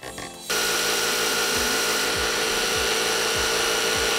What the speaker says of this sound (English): we will use the belt grinder to roughly shape it